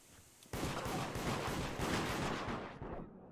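Gunfire from the video game Deceit erupts suddenly after a quiet moment: a dense, loud burst of rapid shots that continues steadily for a few seconds, then tapers off.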